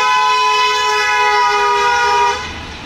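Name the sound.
twin-tone car horns honking in drive-by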